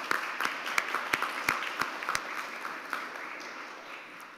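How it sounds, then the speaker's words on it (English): Applause at a university board of trustees meeting, a roomful of people clapping with a few sharp, distinct claps standing out early before the sound thins and fades away. "One more round of applause."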